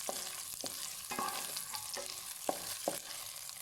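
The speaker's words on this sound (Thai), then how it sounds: "ก็เอาพริกเอากระเทียมลงไปเลยค่ะ คั่วเจียวเขาให้หอมนะคะ ด้วยไฟอ่อนๆค่ะ" Chili and garlic stir-fried over low heat in a pan for a pork and dok salid dish, steady soft sizzle with a handful of sharp spatula scrapes and clinks spaced through, close and alone.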